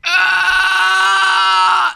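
A single sustained, loud scream imitated by a voice, shrill and tonal, lasting about two seconds alone with no other sound around it.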